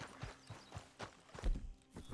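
Horses' hooves clip-clop in the video game Red Dead Redemption, with a quick, even rhythm of about four soft thuds per second, fairly faint and with no voices.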